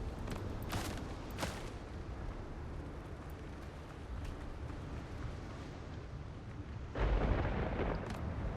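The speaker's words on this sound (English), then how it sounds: "Storms." Thunderstorm in the pirate survival game Windrose: a dense, loud rumbling wash of storm noise with a few sharp cracks and a heavier boom near the end.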